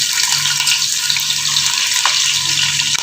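Green chillies and onions frying in hot oil for mutton pulao, a loud, dense, continuous sizzle that fills the whole moment without pause.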